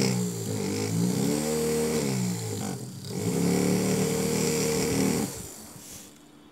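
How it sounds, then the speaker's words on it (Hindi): A small electric motor runs on a homemade 12V 7500mAh battery, giving a steady mid-pitched whirring hum that wavers slightly in pitch and briefly dips before settling again, loud and close with no talk. "मोटर"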